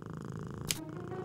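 A cat purrs in the Deponia video game, a close, steady rhythmic rumble that continues throughout, broken once by a brief sharp click.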